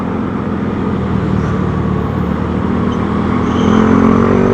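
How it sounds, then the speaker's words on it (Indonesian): Many cars crowd a busy road around a Yamaha Mio J scooter at speed, a continuous close traffic and engine roar that swells slightly toward the end. "banyak mobil jadi rame ya."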